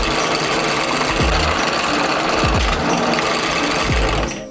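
A drill press bores into a metal piece for a handboard ledge, giving a loud, continuous whirring grind with several sharp dips and bursts as the bit bites into the work.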